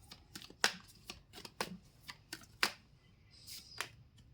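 Tarot cards being shuffled and drawn, a series of crisp irregular snaps and flicks with short riffling bursts, close and quiet, no talking.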